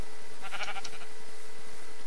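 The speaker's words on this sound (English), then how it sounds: "This sheep is just asking to be killed." A sheep bleats in the Minecraft video game, one short wavering bleat, clear and isolated, over a faint background hum.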